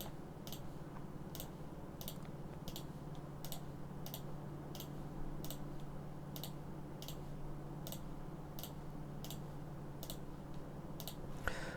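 Computer mouse clicking away at a steady rhythm, roughly one crisp tick every half second, faint and close over a low background hum.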